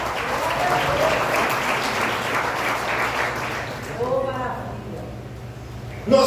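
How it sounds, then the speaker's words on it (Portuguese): Church congregation clapping with joy, a dense wash of applause for about four seconds, thinning out as a voice speaks over the tail end. "Aplauda ao Senhor com alegria."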